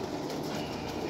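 Pigeons coo softly at a breeder's loft among rare old breeds, a faint, steady murmur with no speech over it.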